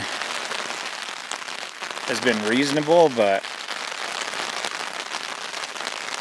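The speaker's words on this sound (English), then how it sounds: "it really started to rain. It is sprinkling. I'll be quiet and you can hear it." Light rain sprinkles on a campsite with a hammock, a soft, steady patter close by. A brief stretch of talk comes in the middle.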